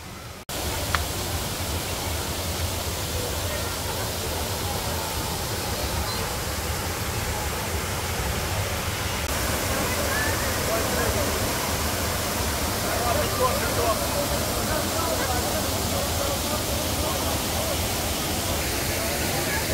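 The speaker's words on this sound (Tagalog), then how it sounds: "Ang ganda ng falls." A waterfall in Bolinao, Pangasinan roars as a steady, broad wash of rushing water, loud and unbroken throughout, with people's voices faintly mixed in.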